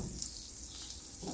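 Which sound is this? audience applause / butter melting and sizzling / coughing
butter melting and sizzling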